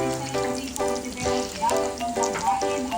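Okoy, mixed vegetable fritters, sizzle in hot oil with a steady crackling fry, joined by recurring bright tones from the background across the stretch.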